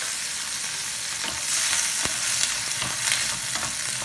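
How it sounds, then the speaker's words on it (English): Boiled corn kernels sizzle steadily in a pan of melted butter, a close, continuous frying hiss with brief stirring scrapes and no talk. "Now add the boiled corn or uble hue bhutta."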